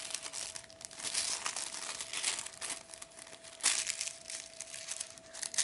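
Fabric being cut on the fold for a homemade tie, a continuous crisp crinkling and snipping rustle close by, steady throughout with no speech.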